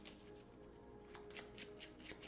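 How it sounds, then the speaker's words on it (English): Cards being shuffled by hand for the board game Parks with its Nightfall expansion, a soft quick riffle of several light rapid bursts, close and quiet with no talking. "shuffle those back into here."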